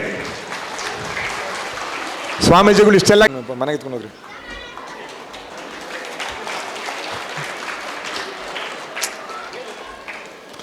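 A crowd claps in a dense, sustained burst at a Hindu community festival in Yelahanka, Bangalore, while a voice speaks over a loudspeaker, the clapping carrying on underneath the talk.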